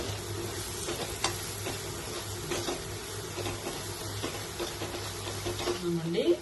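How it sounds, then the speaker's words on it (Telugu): An egg fries in a pan while being stirred, giving a soft, steady sizzle broken by faint scraping and clicking stirs. A voice talks briefly toward the end. "ఫ్రై అయ్యేంత వరకు కలుపుకుందాం."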